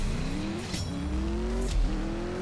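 A racing car engine in the mobile drag-racing game CSR2 revs steadily with rising tonal pitch sweeps that reset twice, loud and continuous with bursts of high hiss, no talk.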